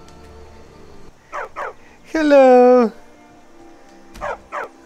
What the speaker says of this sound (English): I want a doggy!